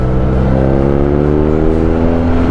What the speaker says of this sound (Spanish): Mira cómo petardea.